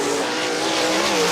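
Sprint race cars roar around the Kokomo Speedway oval during a GLOSS Sprints race, a loud, continuous engine blare with tire noise filling the whole stretch.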